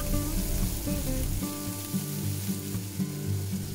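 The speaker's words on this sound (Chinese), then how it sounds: "再倒埋啲芽菜落去一齐兜下佢， 全程要用大火嘅" Bean sprouts stir-fry over high heat in a wok, a loud, constant sizzle with tossing and stirring and a steady tonal hum underneath.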